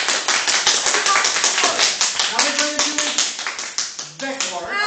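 A group of children in a classroom clapping after singing the alphabet, loud, close and fairly rhythmic hand claps that fill the whole stretch, with a voice briefly sounding toward the end.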